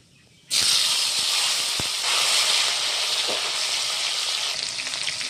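Chopped tomato hits hot oil already crackling with bay leaf and panch phoron in a khichuri pan, bursting into a loud, close sizzle that holds steady and dense to the end.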